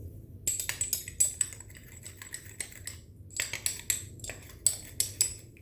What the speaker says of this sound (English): I'm just going to mix together.